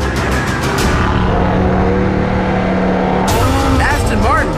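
An Aston Martin Vantage and an Italian SUV run a drag race, their engines roaring steadily and loud throughout, with a sharp burst of tyre and engine noise near the end while someone talks over it.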